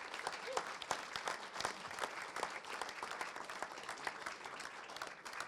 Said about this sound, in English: Give us a round of applause and we're about to get going.